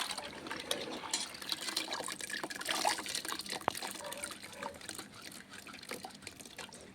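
Water pours steadily over dried grapes in a bowl to soak them. It makes a continuous close splashing trickle that lasts several seconds at a fairly even level, with no talking.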